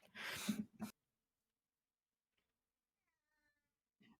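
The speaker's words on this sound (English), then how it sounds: "I'm dealing with my cat who is howling." A house cat howls and yowls loudly in two close bursts at the start, followed by near silence and a faint short cry near the end.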